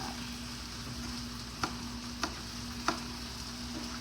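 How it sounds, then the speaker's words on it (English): Onions and jalapeno fry quietly in a pan with a low, steady sizzle, broken by a few faint clicks or taps of a utensil, with no voices. "Those onions are starting to caramelize now."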